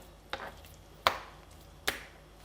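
Beef being cut into pieces with a knife on a board for mince, three sharp, evenly spaced chops standing out alone in a quiet kitchen.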